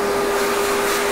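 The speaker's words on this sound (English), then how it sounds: "Vacuum, it's a vacuum." A vacuum cleaner runs steadily in a barber shop, a loud, continuous motor whine with a sustained tonal hum and broad airy rush throughout, with no speech over it.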